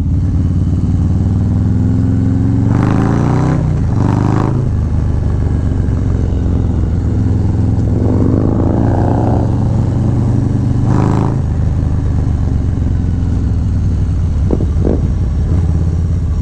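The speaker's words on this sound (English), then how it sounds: "Combined together with the SB Concept exhaust, the sounds that comes out of this bike is just awesome." Harley-Davidson Low Rider ST with a stage 2 setup, Cyclerama 483 cam and SB Concept exhaust rumbles loudly up close, idling deep and steady while it is blipped and revved in several sharp bursts.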